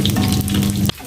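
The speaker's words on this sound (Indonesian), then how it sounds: "Kita tumis sampai benar-benar bumbunya harum" Spices sautéing in a hot pan, a loud close sizzle and hiss that cuts off abruptly near the end.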